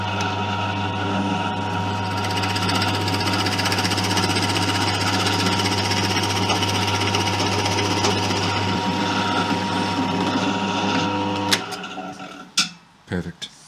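A drill fitted with a 12.5 mm bit bores a depth-stopped mortise into a wooden table leg, giving a loud, steady whine that runs continuously, then stops, followed by a few knocks and clatters.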